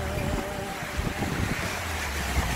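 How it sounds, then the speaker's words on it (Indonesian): Strong wind buffets the microphone at a beach campsite on the Malaysian coast, a continuous rough rushing with low gusty rumbles and a faint sea-like wash beneath. "Tengok, angin kuat lah."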